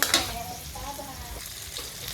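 Onions fry in hot oil, sizzling and popping steadily up close with a few sharp spatters at the start, filling a short stretch without talking.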